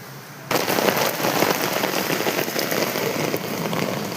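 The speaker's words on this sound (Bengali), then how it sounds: "এই দেখো বন্ধুরা, সে বৃষ্টি হচ্ছে, সে বৃষ্টি" Rain falls in a dense, steady hiss that begins suddenly and continues loud and close without pause, with no voices over it.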